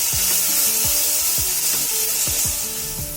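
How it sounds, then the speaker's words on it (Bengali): Spice paste with tomato being sautéed in a pan for a village-style Bengali tilapia jhal, a steady hiss with repeated scraping strokes of a spatula against the pan, close and fairly loud throughout, no talking. "এবার ভালো করে মশলাটাকে কষিয়ে নেব।"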